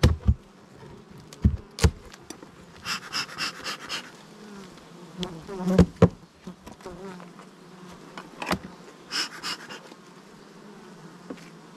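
Honey bees buzz around spring beehives during an inspection, a steady hum with individual insects droning close past, mixed with sharp taps and handling knocks of the hive equipment.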